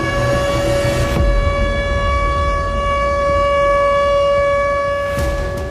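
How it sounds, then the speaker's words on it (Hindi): A loud, steady siren wails continuously with sustained tonal pitches and a low rumble beneath, filling the whole stretch without any voices. "सायरन की आवाज सुन रहे हैं आप?"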